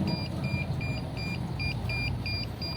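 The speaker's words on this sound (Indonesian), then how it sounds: "Kemudian di sini ada buzzer." The buzzer on an IoT tempeh fermentation controller sounds a rapid, even series of short electronic beeps, about eight of them, at moderate volume over a low background hum.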